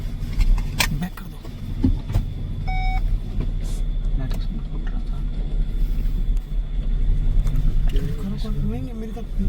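A safari vehicle reversing on a jungle track in Jim Corbett National Park, a low engine rumble with brief beeps while people talk over it.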